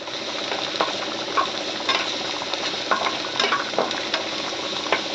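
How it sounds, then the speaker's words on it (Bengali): Onions being stirred in hot oil in a pan for an Assamese-style fish dish, a steady close sizzle broken by scraping stir strokes, with no talk. "যে দেখো তেলটা গরম হয়ে গেছে, এখন আবার পেঁয়াজটা আমি মিক্সিং করবো"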